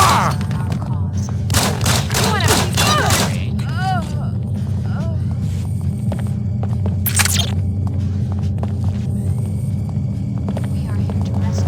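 Gunfire bursts in the video game Deus Ex: Invisible War, a cluster of rapid loud shots early on with scattered later cracks over a steady low hum and game voices.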